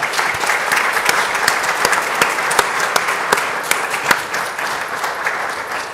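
Audience applause fills a school district board of trustees meeting, a steady dense wash of many hands clapping with sharp individual claps standing out, sustained and fairly loud throughout.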